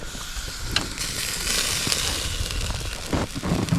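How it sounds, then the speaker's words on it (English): Sausages and bacon-wrapped sausages sizzle steadily in a pan inside a hot tent during winter camping, a close, continuous crackling hiss with small pops. "We're cooking some of them sausages again."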